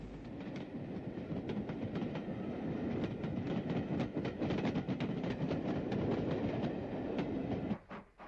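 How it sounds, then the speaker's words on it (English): Former GNR S-Class 4-4-0 steam locomotive no. 192 bringing a train in on an Irish railway in the 1960s, a steady rumble with rhythmic clickety-clack of wheels over rail joints, heard at moderate distance with no voices. "the former GNR S-Class 440 number 192, Slieve na Mon, renumbered 63 by the UTA, brings a train in from the Belfast direction"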